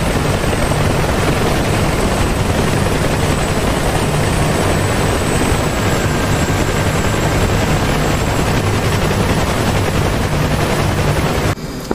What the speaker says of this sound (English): the helicopters are going down for the hostage rescue now.